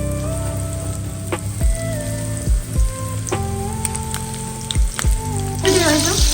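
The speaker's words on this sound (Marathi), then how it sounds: "आता तेल गरम झालंय, आता मासे टाकून घ्यायचे." Bangda mackerel frying in hot oil, a close crackling sizzle broken by repeated low thumps and clatters as pieces are handled in the pan.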